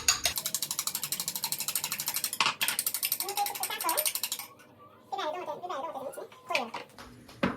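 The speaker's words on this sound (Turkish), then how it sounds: "Büyük çatalı. Güzelce çırpıyorum." Two eggs are beaten in a bowl with a large fork for a village-style menemen, giving a rapid, even clicking rhythm for about four seconds. A brief pause follows, then scattered, irregular clinks and handling noises.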